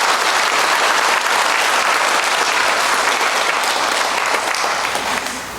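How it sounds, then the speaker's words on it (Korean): A church congregation at a Sunday worship service breaks into loud, dense applause that stays full and steady, easing off slightly at the very end. "우리 박수로 한번 격려하겠습니다."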